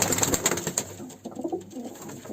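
Pigeons coo near at hand in short, low throaty bursts with a few wing flutters, continuing alone with no speech.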